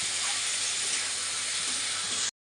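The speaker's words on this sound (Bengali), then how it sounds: "দেখো এখানে আমার চিচিঙ্গাটা অনেকটা ভাজা হয়ে গেছে" Snake gourd (chichinga) frying in a pan with a sprinkle of sugar, giving a dense, even sizzle that holds close and loud throughout before cutting off abruptly, with no talking.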